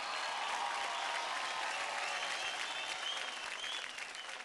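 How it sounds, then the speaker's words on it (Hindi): A studio audience at a children's televised dance competition applauds after a dance performance, a dense, steady wash of many hands clapping that holds loud and full throughout before easing slightly at the end. "जोरदार तालियां हो जाए तेरिया एंड विशाल के लिए।"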